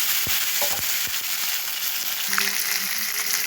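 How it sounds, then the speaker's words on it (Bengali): Whole black cardamom, cloves, cinnamon and peppercorns sizzle and crackle in hot mustard oil in a kadai, a steady frying hiss with a few sharp pops and brief stirring scrapes. "কড়ার মধ্যে আমি বড় এলাচ, লবঙ্গ, দারচিনি আর গোলমরিচ ফোড়ন দিলাম।"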